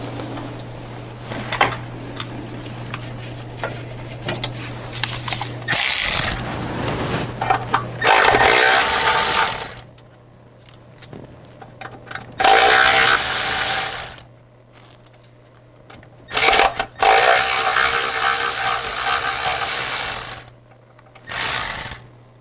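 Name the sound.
ratchet removing oil level sensor bolts on a Sprinter van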